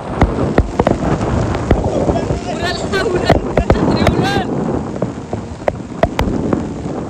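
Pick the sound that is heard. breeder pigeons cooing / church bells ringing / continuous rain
continuous rain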